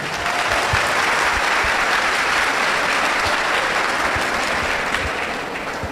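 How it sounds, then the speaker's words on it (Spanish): A crowd applauds a visiting speaker at a church debate hall, sustained dense clapping that stays loud and even throughout, with no voices over it. "un aplauso para el hermano"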